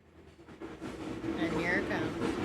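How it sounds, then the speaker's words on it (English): A train passes by and its rumble swells steadily from quiet to loud, with a rising squeal of wheels or brakes near the end, while people talk over it. "We're gonna wait for the train to pass, and then we're gonna read."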